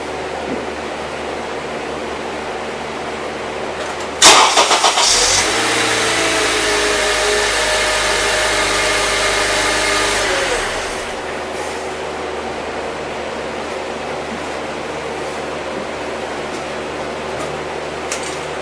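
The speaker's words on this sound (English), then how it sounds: "We're going to start the car up, let it run for a minute, and then we're going to shut it off and check it." A 2012 Honda Accord engine cranks and catches with a sharp start, then settles into a steady low idle for several seconds before shutting off, leaving quiet background.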